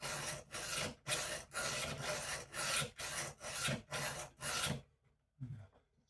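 A kitchen knife is drawn over a coarse sharpening stone, about ten steady rasping back-and-forth strokes, close and fairly quiet, then a pause and one last stroke.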